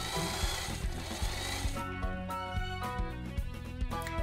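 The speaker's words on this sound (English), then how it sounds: "Sew across the top where the waist will be," A sewing machine stitching the waist seam of doll-sized pajama pants, giving a steady mechanical whir with a fast regular needle rhythm, close and continuous for the whole clip with no talking.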